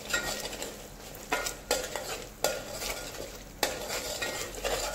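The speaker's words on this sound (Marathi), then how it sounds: "आता 2 ते 3 मिनिट आपल्याला सेम असं हलवत राहायचं आहे।" A spoon stirs red chilli masala, turmeric and salt in a pan with a soft sizzle underneath, sharp metallic scrapes recurring every second or so, close and without talk.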